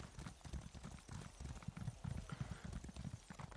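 A horse's hooves clip-clop in a steady, rapid rhythm in the game Elder Scrolls Online, a dense patter of close hoofbeats with no talk over it.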